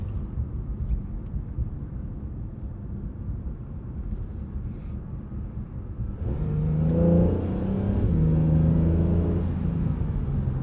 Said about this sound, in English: going from hybrid mode, or basically engine off to engine on, and getting some acceleration out of the car